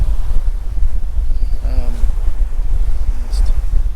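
A sailboat runs downwind under full main and genoa between Norman Island and Peter Island, with a heavy low wind roar and water rush throughout and a faint voice in the background.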